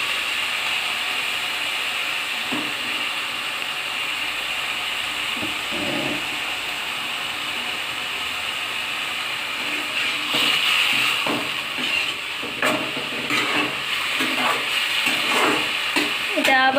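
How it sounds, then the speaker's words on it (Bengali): Red amaranth greens frying in a wok, a constant soft sizzle and hiss broken by repeated scraping clacks of stirring that grow busier in the second half. "এটা যতক্ষণ না ভাজা ভাজা হয় ততক্ষণ নাড়তে থাকবো"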